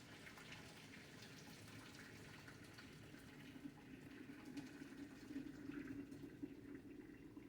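Water gurgles and drains from a kitchen sink after cooking spaghetti, a faint, steady watery rush that swells slightly toward the end, with no talking.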